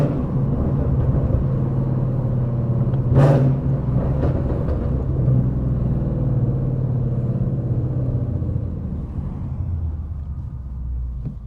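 A Ford Mustang GT, an S550 model, rumbles low and steady while driving, heard from inside the car. A brief whooshing swell comes near the start, and the drone fades slightly toward the end.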